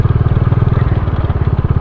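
A Bajaj Dominar motorcycle rides a rough mountain road, its engine a loud, close, steady pulsing thrum with rattly texture throughout.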